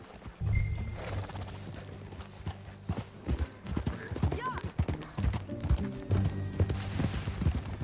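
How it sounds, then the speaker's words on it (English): Steady clip-clop of horse hooves at a walking pace in Red Dead Redemption 2, with game music and voices talking over it. "That a new horse?"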